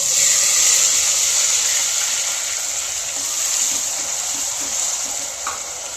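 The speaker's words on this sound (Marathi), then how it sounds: "ही चरबी व्यवस्थित तळल्या गेली" Mutton fat frying in a pan gives a steady, loud hiss of sizzling oil that holds evenly for several seconds, close up, with no talking.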